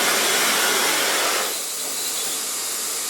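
A hair dryer blows loud and close on a woman's hair, a steady whooshing roar that drops slightly in pitch and level halfway through, with no voices.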